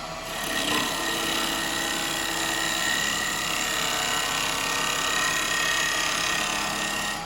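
A bowl gouge cuts a yew bowl spinning on a lathe and passes through a knot, making a continuous loud rasping, scraping whir that holds steady from start to finish.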